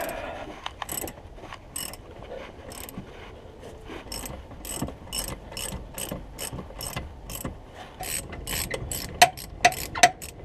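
A ratchet clicks in quick rapid bursts, loosening nuts on the rear suspension of a BMW E70 X5 during an airbag-to-spring conversion, the clear clicking repeating close up with a few sharper metallic ticks near the end.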